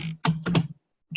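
Keyboard typing sounds in quick, close bursts of keystrokes separated by brief pauses, with no one talking.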